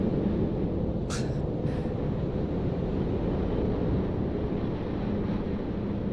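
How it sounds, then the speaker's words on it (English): Steady wind blowing in the Fugl VR bird-flight game, a continuous airy rush with a brief faint chime near the start. "And just the effects, even the wind now."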